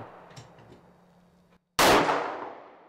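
A single sharp gunshot at an outdoor shooting range in Vancouver cracks out loudly after a moment of near silence, then decays over about a second, preceded by faint background rumble.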